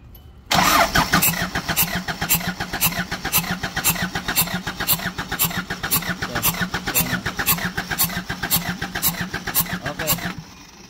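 A Kia Bongo 3 engine with a misfire and heavy white smoke cranks and catches quickly, then runs loud and close with a rough, pulsing idle for about ten seconds before shutting off.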